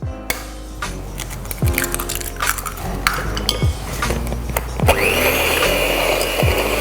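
Choux pastry dough being beaten with an egg in a mixing bowl, a rough rhythmic scraping and slapping of the spoon against the bowl, close and fairly loud, turning wetter and smoother toward the end, no talk.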